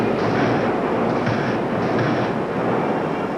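Jet bike engine with afterburner at a 1987 USHRA event in Minneapolis, a loud continuous roar of broadband noise with slight surges, heard alone without any talk.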